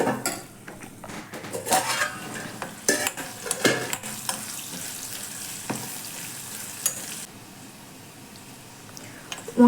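Eggplant and onion softening in a pan, stirred with a spoon: irregular close scrapes and clatters against the metal over a low sizzle, thinning to quieter cooking toward the end.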